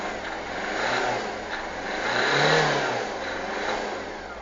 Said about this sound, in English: If I rev the engine